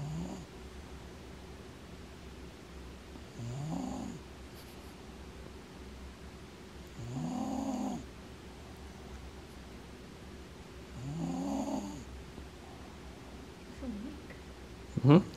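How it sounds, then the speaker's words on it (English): A person snores in slow, regular cycles, with three or four rasping breaths spaced several seconds apart over a steady background hiss, fairly quiet and close by. "He sounds like a grown man snoring."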